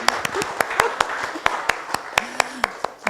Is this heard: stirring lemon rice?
no